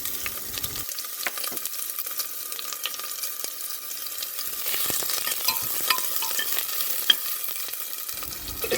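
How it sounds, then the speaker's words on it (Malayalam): Small shallots hit hot coconut oil with popped mustard seeds for a salmon curry, giving a dense, continuous close sizzle with scattered crackles and a few stirring scrapes, no voices. "കരിഞ്ഞു വെച്ചിരിക്കുന്ന ചെറിയ ഉള്ളി ഇടാം."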